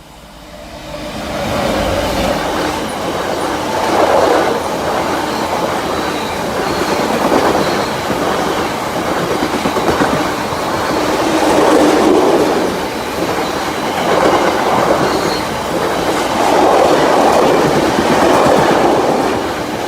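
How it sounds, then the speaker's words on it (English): A petroleum tanker train rolls steadily past a level crossing, a continuous loud rumble with rhythmic wheel clatter and faint squeal that swells and ebbs as the wagons go by, with no voices. "Petroleum train."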